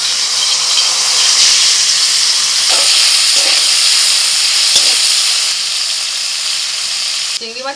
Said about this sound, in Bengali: এবার চিংড়ি ভেজে নেব।